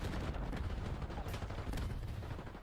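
Gunfire from a Call of Duty League match fills the mix as a dense, rumbling stream of rapid shots with a few sharper cracks standing out, continuous and fairly faint as if heard in the background.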